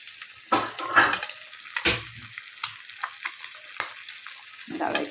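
An egg fries in a kadai while a utensil stirs and spreads it, a steady sizzle broken by repeated scraping strokes against the pan, close and fairly clear.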